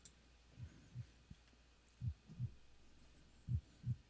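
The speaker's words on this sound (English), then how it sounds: "Heartbeat." A thumping heartbeat opens a song, three evenly spaced lub-dub pairs of low, muffled beats over a faint hum, sounding alone.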